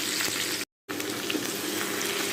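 Pointed gourd frying lightly in oil, a close, even sizzle and crackle that runs steadily apart from one brief dropout, with no voices.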